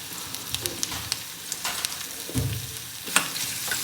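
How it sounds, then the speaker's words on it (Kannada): Onions fry in a little oil over a low flame for caramelizing, giving a close, steady sizzle with occasional stirring scrapes and soft clicks. "ಇದು ನೀಟಾಗಿ ನಾವು ಆನಿಯನ್ನ ಒಂದು ಸ್ವಲ್ಪ ಎಣ್ಣೆ ಒಳಗೆ ಫ್ರೈ ಮಾಡ್ಕೋಬೇಕು"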